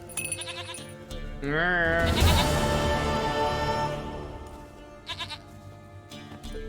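A goat bleats in The Witcher 3, one long wavering cry close and loud over a steady game ambience, with French speech before and after.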